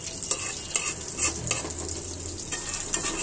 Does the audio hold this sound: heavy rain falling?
no